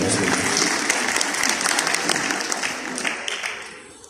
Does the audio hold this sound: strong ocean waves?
no